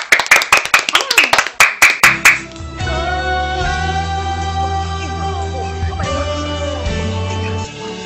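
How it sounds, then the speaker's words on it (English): A small group of people clap for about two seconds in a brisk, uneven burst of hand claps, then the clapping stops and quiet music with steady tones carries on underneath. "Clap for yourself."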